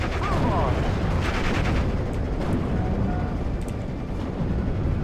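Shelling and gunfire from infantry and mountain guns in the video game Steel Division Normandy 44 form a dense, continuous battle rumble with scattered bursts, and a voice talks faintly beneath it.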